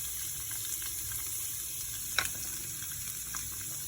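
Chopped onions frying in a pan for upma give a steady, moderately loud sizzle and hiss throughout, with one brief sharper clatter of stirring midway and no talking.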